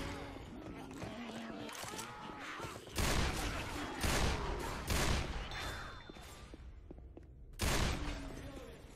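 Gunfire in the zombie shooter Left 4 Dead 2, bursts of loud shotgun and rifle blasts in several heavy volleys over a constant din of game noise, with players talking throughout.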